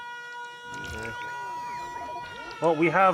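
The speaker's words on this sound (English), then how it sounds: "The air raid siren would feel more appropriate if I was still being bombarded" An air raid siren in the video game Factorio sounds with long rising and falling wails, moderately quiet beneath someone talking.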